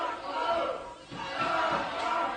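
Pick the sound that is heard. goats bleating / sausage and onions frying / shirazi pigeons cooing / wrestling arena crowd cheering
wrestling arena crowd cheering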